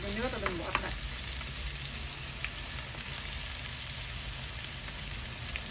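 Onion and prawns fry in a pan with a dense, steady sizzle throughout, a few stirring scrapes and clinks near the start, and no talk.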